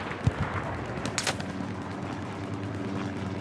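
Gunfire in a front-line multiplayer war video game: a few sharp shots near the start and a brief burst in the middle, set against a constant low rumble of battle ambience.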